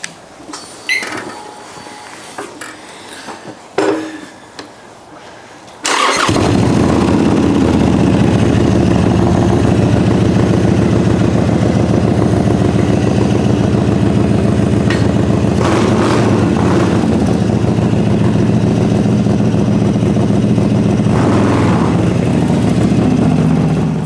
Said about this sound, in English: Hear this exhaust out now.